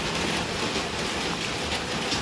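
Heavy rain drumming on a corrugated zinc roof, a dense, steady, loud hiss and patter filling the space with no pauses and no voices.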